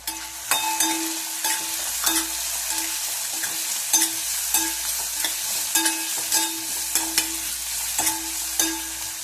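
Peeled peanuts hit a hot frying pan with a leftover bhakri breakfast dish, and a spoon stirs them in steady repeated scrapes over a constant close sizzle, with no talking.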